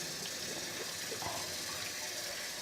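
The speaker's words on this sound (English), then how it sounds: "So I'm just going to wash this bowl" A kitchen tap runs steadily while a sticky mixing bowl is rinsed, giving a continuous soft gush of water with faint splashes, fairly quiet and without talk.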